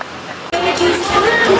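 Applause from a live audience at a Bhojpuri cultural event in India, a steady wash of clapping that bursts in suddenly after a short quiet lead-in and holds loud and even.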